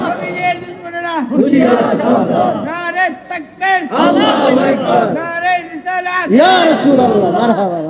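A large crowd at an Islamic waz gathering chants the Nara-e-Risalat slogan in loud, rhythmic call-and-response waves of massed voices, echoing outdoors through a sound system.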